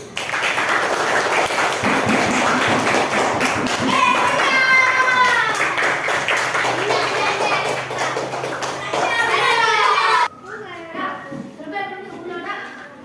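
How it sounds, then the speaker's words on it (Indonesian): Classroom applause for a student in a primary school lesson, a burst of children's clapping with a teacher's voice over it, then talk and children's speech after the clapping fades. "Tepuk tangan"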